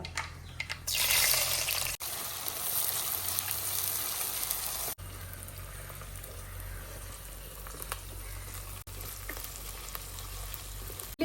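Mustard seeds, chopped shallots and garlic fry in hot coconut oil with a loud, steady crackling sizzle. It swells sharply near the start and then settles into a continuous hiss, briefly broken by a few stirring or handling pauses.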